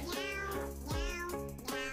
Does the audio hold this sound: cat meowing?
yes